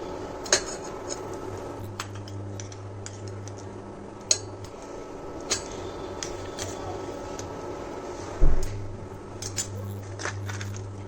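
A metal spoon scraping and tapping against a pressure cooker as ghee goes in for frying dry fruits, sharp clinks and knocks spread unevenly over a steady low kitchen hum, with one louder clatter near the end.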